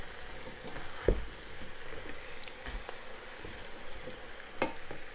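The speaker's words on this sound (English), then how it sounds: "I have turned down the fire because it's somehow the minced meat is sticking on the bottom." Minced meat frying over a lowered flame and sticking to the pan bottom, a quiet low sizzle broken by a few sharp scrapes and knocks as it is turned.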